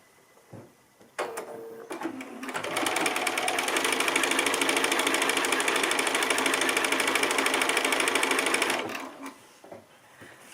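A sewing machine stitches quilt strips together, starting up after a few handling clicks and running close and steady for about six seconds before stopping.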